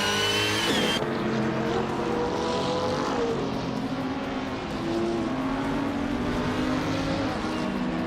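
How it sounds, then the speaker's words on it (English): A 2018 Ferrari 488 GT3 race car engine in a racing video game, roaring loud and close with a sharp gear change near the start, then a sustained high-revving drone with shifting pitch. "Nutz is driving a 2018 Ferrari 488 GT 3 Sprint"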